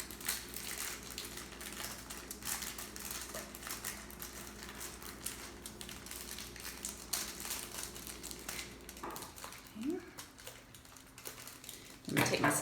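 Steady crinkling and crumpling of thin aluminum foil being folded for a craft, close by, continuous for several seconds with a louder rustle near the end.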